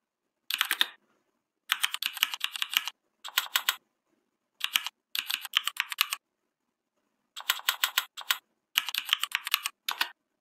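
Computer keyboard typing a terminal command, in quick bursts of close, crisp key clicks separated by short silent pauses.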